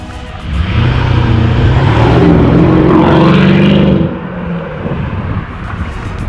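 A Mercedes-Benz S500 V8 with a custom valved exhaust accelerating on the road, a loud deep rumbling roar that swells for a few seconds, then eases to a steadier cruising drone.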